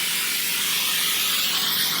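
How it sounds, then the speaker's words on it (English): A continuous close hiss from a can of cooking spray spraying a baking sheet steadily for the whole clip, with no pauses and no voices. "with a little cooking spray."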